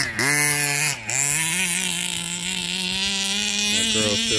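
A Redcat XB RC car's small electric motor runs after a repair, whining steadily and loudly close by with a brief dip in pitch and a quick rev back up, holding a high, buzzing drone.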